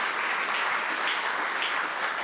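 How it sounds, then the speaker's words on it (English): A crowd at a governor's announcement of a SUNY Stony Brook investment breaks into steady, full applause, a close, dense roar of many hands clapping without any speech over it. "Let's give them a round of applause, Maddie and Ryan."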